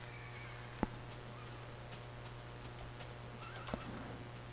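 Horses in a Minecraft-style modded game (Technic Pack) let out faint, distant neighs over a quiet steady hum, with a couple of sharp clicks standing out.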